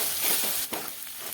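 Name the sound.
lentils frying in oil in a pan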